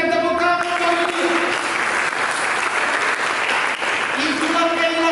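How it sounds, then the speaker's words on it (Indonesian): A crowd claps steadily and loudly for several seconds, with a sustained voice or tone audible at the start and end. "Mari kita berikan tepuk tangan bagi Dia."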